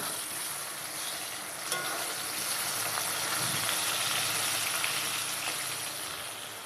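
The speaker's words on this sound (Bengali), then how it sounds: "আর বেগুনের পর কাঁচকলাটাও ভেজে নেব। অবশ্যই একটু করে লবণ দিয়েই ভাজবো।" Raw green banana slices sizzling with salt in hot oil in a wok, a steady bright frying hiss that holds constant throughout, with faint stirring clicks and no talking.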